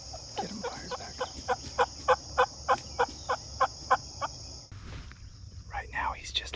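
A wild turkey gobbles in a rapid run of about a dozen sharp, rhythmic calls during a hunt, fairly near, over a steady high insect buzz, followed by softer bird calls.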